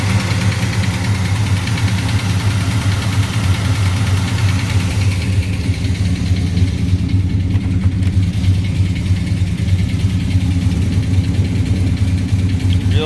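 A 1966 Chevelle SS with a 396 solid-lifter V8 and four-speed idles steadily close up, a loud, even rumble with a faint lifter tick running throughout and no talking.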